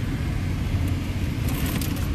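A car engine rumbles steadily at low speed during parking, a continuous near drone with no talk over it.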